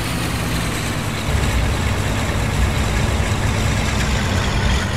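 A train locomotive engine in Train Simulator 2013 rumbles loudly and continuously, a dense, steady low drone with a slight rise in intensity partway through, with no talking over it.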